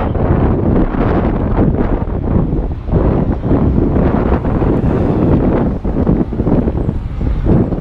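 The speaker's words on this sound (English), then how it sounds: "It's windy. I should have my mic hooked to this." Loud, continuous wind buffeting the microphone at the Missouri–Arkansas line, a dense rumbling roar that barely lets up throughout.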